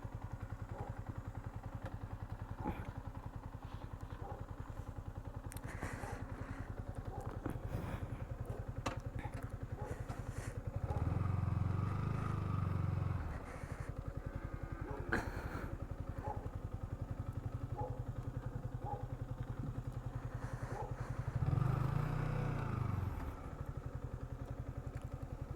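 KTM Duke 250 motorcycle ridden on the road, a steady low engine drone with two louder throttle surges, plus occasional clatter and thuds, heard alone without talk.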